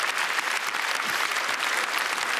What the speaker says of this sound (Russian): Аплодисменты Киркорову